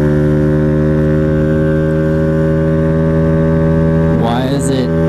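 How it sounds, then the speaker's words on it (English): A Honda Ruckus scooter engine revs high and steady, a loud sustained droning whine that holds constant before a brief rising wobble near the end. "Why is it revving so high?"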